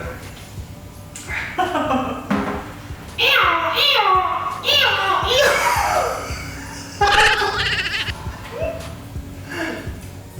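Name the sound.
person imitating a donkey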